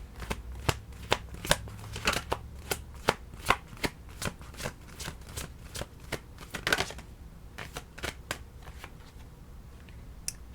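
A deck of cards is shuffled by hand at close range: a rapid, uneven series of crisp flicking and slapping riffles that goes on for about ten seconds, with no voices.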